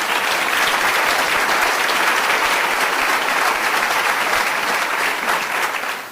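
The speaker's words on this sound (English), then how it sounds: "let's give Alignment Rockford a round of applause" A room full of people at a school district event applauds a community group, dense steady clapping that holds loud and even for several seconds before tapering slightly at the end, with no talk over it.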